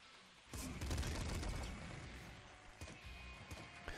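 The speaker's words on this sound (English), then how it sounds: "A double flame shotgun." A double flame shotgun fires in the Nuclear Throne video game, giving a burst of crackling blasts that swell and then trail off into scattered pops and impacts at a fairly low level.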